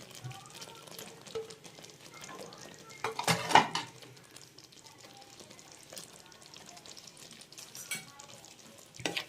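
Boiled eggs drop into a simmering egg curry masala in a Kerala-style kitchen, with quiet bubbling and sizzle broken by a cluster of louder clatters of pan and utensil midway.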